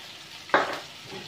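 A sudden loud sizzle as chicken spring roll filling with garam masala, crushed chilli and chicken powder hits a hot pan, easing into a softer frying hiss.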